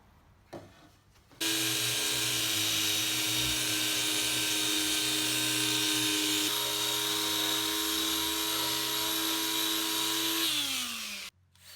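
Power sander running steadily on a wooden Adirondack chair leg, sanding off primer at a glue joint; a loud, continuous whine with strong tonal hum starts abruptly, holds for about nine seconds, then winds down and stops.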